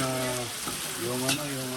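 Sardines and bitter gourd sizzle and fry in a pan, a dense continuous crackle with faint stirring, close and steady, with no talking.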